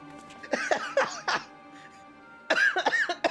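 A person coughs and clears their throat in close, harsh bursts, with a cluster of four or five hacking coughs, a brief pause, then another rapid volley, against a quiet background.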